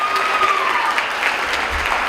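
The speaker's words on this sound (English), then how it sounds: "let's give them a round of applause" Audience at a nursing pinning ceremony clapping together in a brief, steady burst of applause, a dense even wash of hand claps with a faint tone running through it.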